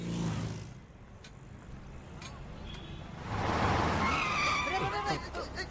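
A car races in with squealing, skidding tyres, its engine rumble swelling and the screech rising loud in the second half of a dramatic street scene, with voices nearby.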